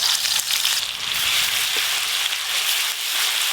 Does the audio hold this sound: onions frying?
yes